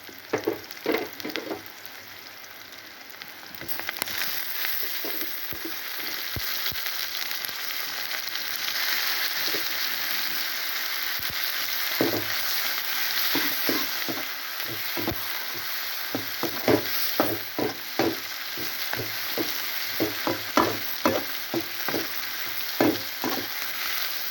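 Finely chopped tomatoes and masala sautéing in a pan for a dalcha, a continuous soft sizzle with frequent clicking stirring strokes throughout, close and steady.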